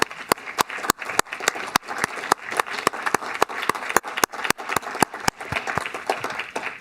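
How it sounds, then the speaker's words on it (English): Audience at a town council meeting giving a round of applause, a fairly small group clapping in an uneven, brisk rhythm of distinct hand claps for several seconds. "And I think we owe her a round of applause."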